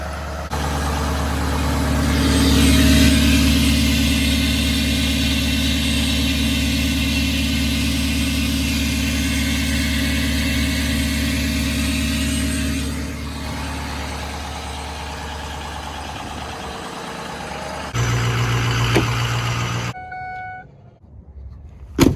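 A loud truck engine idles steadily after starting up, a strong low rumble holding for most of the stretch before shifting pitch and cutting off near the end.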